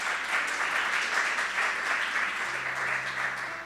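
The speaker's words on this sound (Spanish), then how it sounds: "Denle un fuerte aplauso al Señor." A church congregation applauds in a steady, dense wash of clapping that holds evenly throughout, fairly close and unbroken, with no distinct voices over it.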